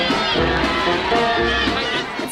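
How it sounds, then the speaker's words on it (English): A big crowd of fans at an AFL Grand Final parade in 2006 roars and cheers steadily, a dense wash of voices with shouts rising and falling throughout. "they were still blown away by the big crowd"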